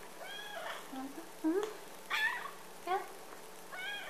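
A pet cat meows several times in short, rising calls spread through the moment, close by, with a person speaking briefly between them.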